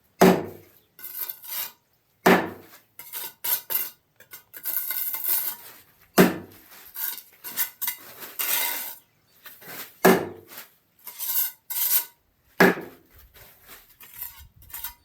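Sharp metallic-sounding hammer strikes on stone during drystack stonework ring out at irregular intervals, each followed by scraping and clattering, with no talking.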